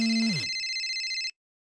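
An electronic phone ringtone in Roblox Brookhaven RP plays in a bright, steady tone with a short melodic drop at the start, then stops abruptly. No one speaks.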